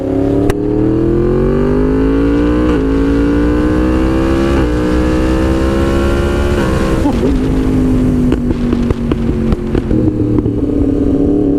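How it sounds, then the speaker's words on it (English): A Yamaha MT-10 motorcycle engine pulls loud and close, rising in pitch through several seamless quickshifter upshifts, each one marked by a brief dip before the revs climb again. "Seamless upshifts."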